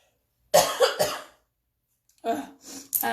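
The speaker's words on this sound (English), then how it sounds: "I'm like coughing on this eyeshadow." A person coughs a few times in a quick burst, close and loud, then after a short pause coughs again twice more.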